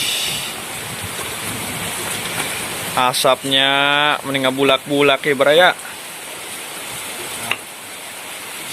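Steady rain patters down outdoors as a continuous hiss through the whole clip. A person speaks briefly partway through.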